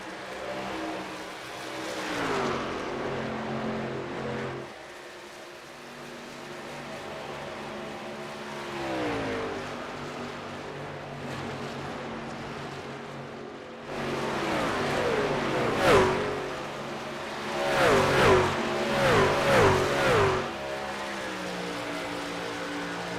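Speed trucks race on a track, their engines droning and rising in pitch as they pass, growing louder with several trucks roaring by near the end.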